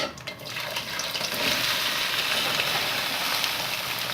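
Okra dropped into hot ghee in a pan for dhaba-style bhindi masala gives a steady, fairly loud broadband hiss and crackle, rising after a brief softer start and holding for about four seconds with no talking.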